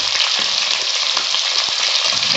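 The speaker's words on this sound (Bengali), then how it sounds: "আলুগুলো আমি ভেজে নিচ্ছি" Potatoes frying in a pan with salt and turmeric, a loud, dense, continuous sizzle up close with faint ticks of stirring beneath, no voices.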